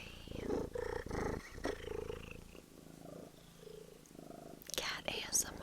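A pet cat purrs and grumbles right up against the microphone in a quiet indoor ASMR setting, with soft whispering beneath and a sharper burst of sound near the end.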